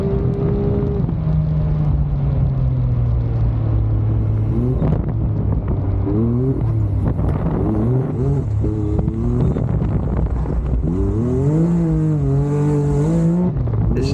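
A Can-Am X3 side-by-side on a time attack run in two-wheel drive over a slick course: the engine drones loudly and close, then revs up and down repeatedly with sharp throttle changes and no talk.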